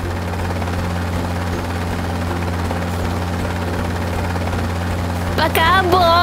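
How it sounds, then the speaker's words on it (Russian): A cartoon helicopter flies past with a steady, loud rotor drone throughout, and near the end a cheerful high-pitched voice or whistle rises over it. "Смотрите, вертолет летит!"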